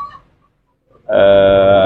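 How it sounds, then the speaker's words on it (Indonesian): Chickens in a yard at a home garden give a short, loud burst of clucking after a near-silent pause, close by and with no talk over it. "di sini kebetulan kan banyak ayam"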